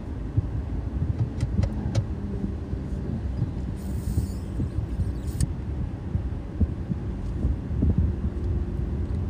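Car interior during a driving lesson in Paris as the car creeps forward, giving a low, steady engine and road rumble with a few faint clicks and no voices.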